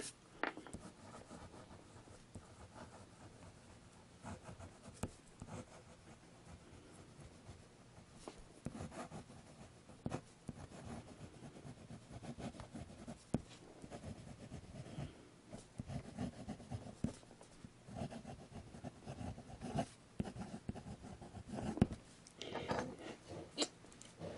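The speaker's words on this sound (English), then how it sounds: "And the pen really writes nice. Jinhao, fine nib." A Jinhao fountain pen with a steel fine nib writes on paper. Soft, close scratchy strokes come in quick irregular bursts, fairly faint and continuous, with no speech.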